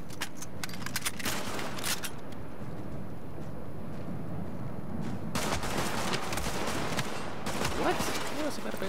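An automated turret in The Division keeps firing through a PvP survival match, with sharp bursts at the start and again near the end and a lower rumble of action in between, loud and close.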